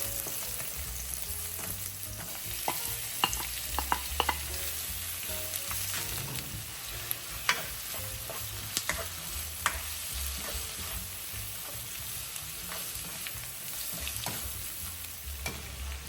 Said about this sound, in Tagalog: umpisan nating igisa sa bawang at sibuyas